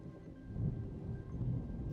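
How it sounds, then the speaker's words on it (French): A summer thunderstorm rumbles low and steady with a soft wash of rain, the distant thunder rolling in two gentle swells. "C'est une pluie d'été, un orage d'été."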